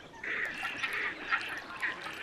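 Ducks on a London wetland reservoir, where pochard and other diving ducks overwinter, give a string of nasal honking calls, several bursts at a moderate distance over soft outdoor ambience.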